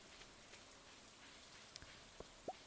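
Steady rain in the Stardew Valley farming game on Alex's birthday, a soft, even hiss with a few faint drips and light clicks near the end, no talking.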